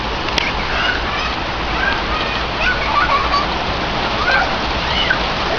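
Heavy rain pours down outdoors in a steady, dense wash of splashing drops. Faint voices and high calls come and go under the downpour.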